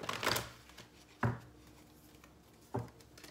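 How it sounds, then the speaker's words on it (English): Romance angels oracle cards being shuffled in three quick riffling bursts, the first longest, with quiet pauses between, soft and close with no voices. "let's pull some romance angels cards here"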